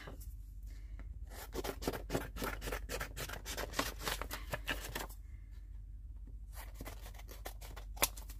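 Paper being cut with scissors for a journal pocket insert, heard as a run of close, crisp snips and rustles in two bursts with a short quieter gap, no talking.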